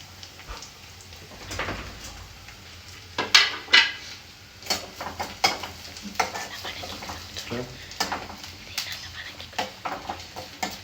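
Garlic fries in a pan while a utensil stirs it, a soft steady sizzle broken by scattered clinks and scrapes of metal on the pan, close, with faint voices now and then.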